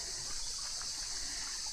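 Water flows over a stone river crossing, a steady close hiss and trickle with no voices.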